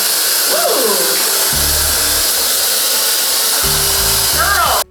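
A hair dryer blows loud and steady while drying a dog after a bath, with a whining whoosh that shifts pitch as it moves, and brief low rumbles underneath.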